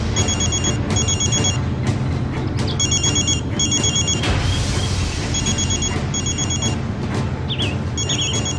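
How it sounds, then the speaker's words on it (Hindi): A telephone bell rings in repeated bursts over a loud, dense dramatic film soundtrack in a Rajasthani movie scene, the trilling rings recurring steadily across the clip beneath heavy background score. "फोन उठा ले बेटी"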